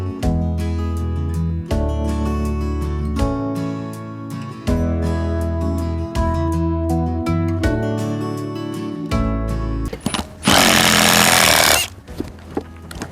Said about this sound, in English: I like this new drill